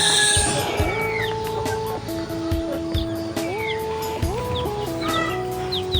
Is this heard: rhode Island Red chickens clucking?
yes